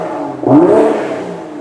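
BMW M240i exhaust giving a single sharp rev that rises quickly and then falls away, loud and close, with no talk.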